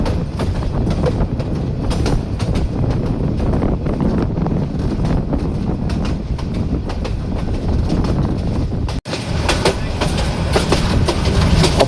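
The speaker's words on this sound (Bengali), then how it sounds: "আমরা এখন থ্রুপাস যাচ্ছি বাংলাদেশ কৃষি বিশ্ববিদ্যালয়ের রেলওয়ে স্টেশন" The Dewanganj commuter train passing through Bangladesh Agricultural University railway station in Mymensingh, heard from onboard: a loud, continuous rumble with rapid rhythmic wheel clatter over the rails throughout.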